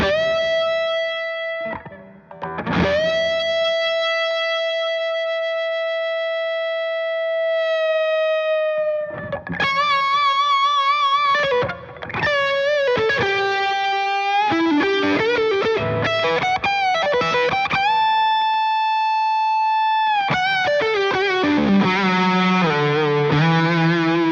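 A Music Man John Petrucci Majesty electric guitar rings out and sustains notes for several seconds, interspersed with quick picked phrases and bends, distorted and loud with no talking.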